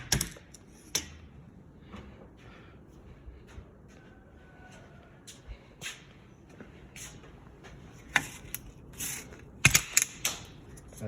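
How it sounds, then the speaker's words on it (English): Interior trim being pried off a Ford Falcon XF, heard as faint scattered clicks and sharp plastic snaps, growing into a louder cluster of cracking clips near the end, with light rustling in between. "Gonna take this trim off next."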